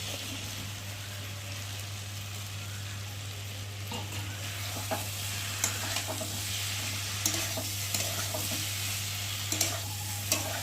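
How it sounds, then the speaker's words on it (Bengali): Fried cauliflower and potato being stirred into oily spice masala in a pan: a steady, soft frying sizzle with scattered scrapes and clinks of the spoon against the pan, over a constant low hum, with no voices. "আর এখন এই যে ভেজে রাখা ফুলকপিগুলো দিয়ে একটু ভালো করে কষিয়ে নেব।"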